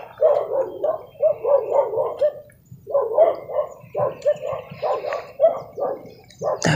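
A dog barks in quick rapid bursts, yapping steadily with short pauses, fairly close and loud.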